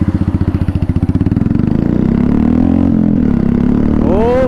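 A motorcycle engine starts in the early morning with rapid chugging pulses, then settles into a steady, loud idle rumble close by, with a brief rising rev near the end.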